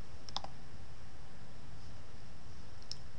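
A computer mouse gives two short, crisp clicks on a desk, one early and one near the end, with quiet room hiss in between.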